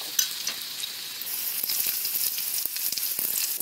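Food sizzles steadily in a hot pan while it browns, a close, bright crackling hiss with small spattering pops and a few stirring touches, no voices.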